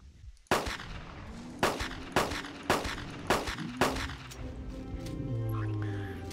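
Six loud, sharp gunshots fired at a triceratops in the Carnivores Dinosaur Hunter Reborn hunting game, spaced roughly every half second to second, each with a ringing tail, followed by a lower rumbling ambience.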